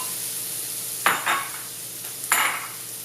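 Red onions and curry leaves fry in a pan with a low steady sizzle, broken by a few sharp bursts of spatter or stirring that flare up and then settle.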